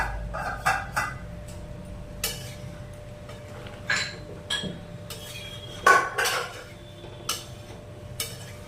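A metal lid is set on a pot of chicken cooking on the stove, giving several sharp, close clinks and clatters spread over the clip against a quiet background.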